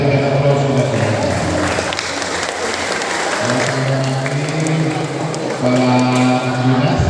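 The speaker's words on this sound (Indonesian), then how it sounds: "Kita berikan aplaus untuk mereka." An audience claps steadily through a tournament opening ceremony in West Sulawesi, with a public-address voice speaking over the applause.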